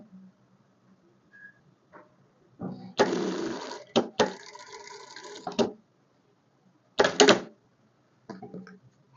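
A sewing machine stitches a French seam on an unlined child's festa junina dress, running in short bursts of motor whir separated by quiet pauses, close and fairly loud with no talking.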